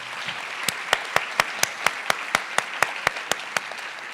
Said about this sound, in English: Please help me give everyone a round of applause.